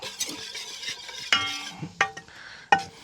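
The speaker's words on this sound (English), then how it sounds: "So you got to whisk it good." Whisking a thin Alabama white sauce in a bowl, with a steady scraping stir broken by three sharp clinks of the whisk against the bowl, close and moderately loud, no talking.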